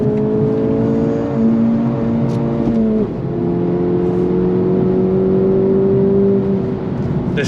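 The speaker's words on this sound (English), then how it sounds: "they definitely did a good job with getting the sound out of the exhaust, the pops, the bangs and stuff" A 2024 Acura Integra Type S front-wheel-drive hot hatch engine and exhaust drone loudly through several gear changes, the pitch climbing and dropping, with a few faint, short pops at moments.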